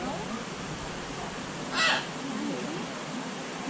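A trained bird at Discovery Cove gives a single short, harsh call around the middle, fairly close, over steady outdoor background noise with a faint voice nearby.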